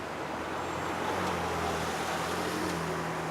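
A Porsche 911 Turbo of the 997 generation passes on a Miami street, a steady low engine rumble blending with surrounding traffic noise at moderate distance, no voices over it.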